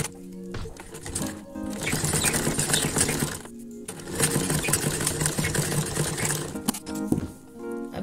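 Sewing machine stitching a sari border onto a sleeve, a steady close mechanical whir with brief pauses between runs of stitching.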